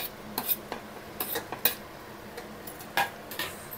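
Masala paste is mixed into chicken in a pot for donne biryani, heard as irregular metallic scrapes and clanks of a spoon against the pot, spaced with brief quiet gaps.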